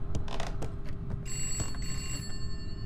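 An old telephone rings in the horror video game Contempt, a steady high electronic tone starting partway through over a low rumbling background with scattered clicks and footsteps.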